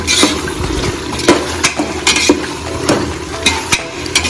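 Five chopped onions fry in a pan for biryani, a steady sizzle broken by sharp clicks and taps of stirring, close and fairly loud with no talk.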